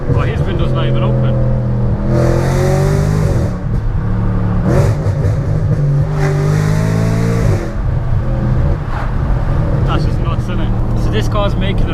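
A tuned Audi RS5 engine revs hard in repeated bursts, the roar rising and falling close by over a constant loud rumble.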